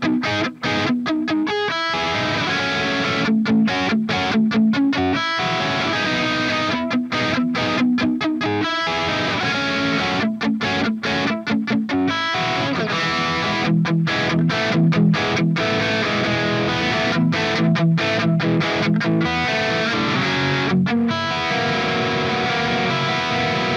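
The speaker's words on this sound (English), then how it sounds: "let's check out the second crunch channel that has a really nice bite to it" Electric guitar played through the second crunch channel of a Synergy SLO amp, a loud, continuous gritty overdriven tone with chugging chords and muted stops, played alone.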